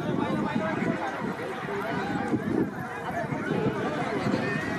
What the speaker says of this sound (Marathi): गाड्या सुटल्या. बैलांच्या गाड्या.